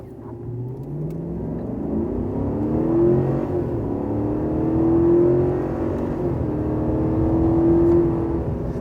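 Chevrolet Silverado pickup truck accelerating hard from standstill, a steady loud engine drone heard from inside the cabin, rising through gears with pitch climbs and brief shifts, continuous with no voices.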